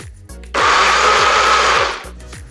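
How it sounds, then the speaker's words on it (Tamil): A mixer grinder whirs loudly for about a second and a half blending tomatoes, starting abruptly and winding down, with quieter background noise before and after. "இதை மிக்சியில் போட்டு அரைச்சிக்கலாம்."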